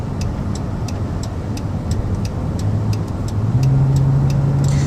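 2011 Dodge Caravan mobility van with 45k miles merging into traffic: steady road and engine noise from inside the cabin, with rhythmic faint clicks, and the engine drone rising and firming up in the final second.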